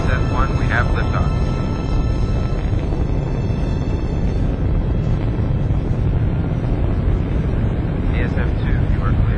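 Spaceship liftoff in the Freelancer game intro, a loud, continuous low rumbling roar that holds steady throughout, with faint radio-style voice chatter over it.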